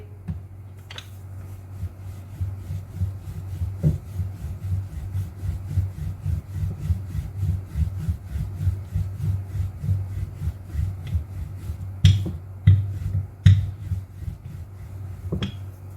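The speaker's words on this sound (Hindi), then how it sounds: "पेड़े को लंबाई में बेलेंगे।" A rolling pin pushes dough lengthwise in a steady rhythm of soft, repeated rubbing strokes, quiet and close, with a few sharper knocks near the end.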